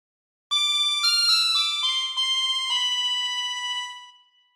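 A harmonica plays a phrase of the Star Spangled Banner, a string of clear, reedy sustained notes with distinct attacks, alone and close, fading out at the end.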